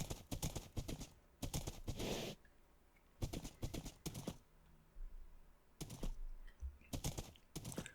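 Horse hooves clip-clopping in Minecraft Bedrock Edition, steady rhythmic clusters of clopping steps in bursts separated by brief pauses, moderately loud and close.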